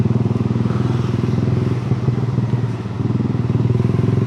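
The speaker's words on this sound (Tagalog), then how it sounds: "Pero parang ang daming motor." Several motorcycles idle steadily at a busy big bike shop during the Christmas rush, a loud continuous engine rumble with light clatter, close and constant throughout.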